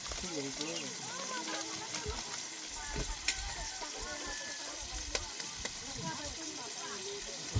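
Eggs fry with tomatoes in a pan for ginisang kamatis, a continuous close sizzle and crackle with occasional stirring clinks while people talk over it.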